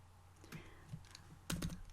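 Keys on a computer keyboard tap faintly in a few scattered presses, ending in a slightly louder quick cluster of clicks.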